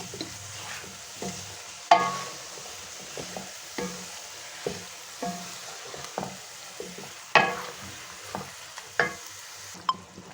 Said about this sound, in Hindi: अब मैं डालूंगी इसमें अपने चावल।